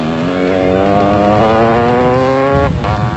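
Off-road race motorcycles at the 1997 Trans-Tongoland race in South Africa ride slowly through a slippery mud hole, engines droning steadily and loudly with a small dip near the end.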